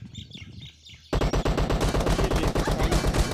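Sustained automatic gunfire sprays in a PUBG match, a loud rapid burst that starts abruptly after a quieter opening and runs continuously to the end.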